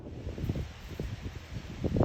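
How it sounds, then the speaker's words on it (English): Gusty wind buffeting a microphone outdoors, low rumbling thumps rising and falling, with faint rustling in the background. "it's a little windy out"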